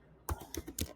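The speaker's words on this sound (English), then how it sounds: "So let me type something here." A computer keyboard being typed on, with three quick separate keystroke clicks, close and quiet.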